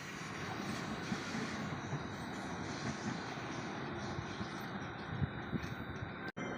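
A RegioJet train pulling out of a station, heard as a low, steady rumble of wheels and cars rolling past at moderate distance, with no talk.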